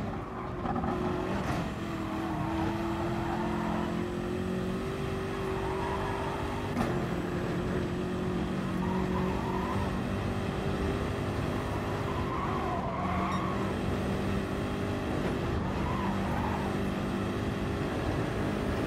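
A race car laps the Nordschleife in Gran Turismo Sport, a steady loud engine drone with shifting pitch as it accelerates and brakes, along with occasional tire noise, and no talk.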